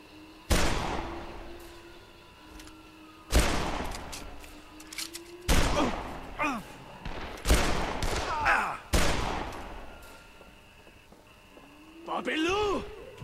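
Gunfire in the video game Dead Island, several loud separate shots or short bursts spaced a few seconds apart, each with a decaying tail, over a steady low hum and occasional game sounds.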